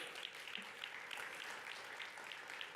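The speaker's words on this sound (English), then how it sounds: "Please give them a round of applause." An audience at a high-level conference track opening applauds the panelists, faint, even clapping from a large room heard at a distance throughout.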